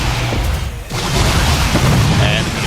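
Siege tanks firing in a StarCraft II match, deep booming blasts rolling through a loud, dense mix of game sound and continuous commentary.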